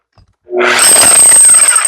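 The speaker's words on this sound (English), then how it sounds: "when you pull the trigger, the engine keeps turning, but it's not hammering until you put pressure" Demolition hammer in regular hammer mode starts up abruptly and runs loudly and steadily, a close, harsh mechanical roar with a high whine on top, no voices.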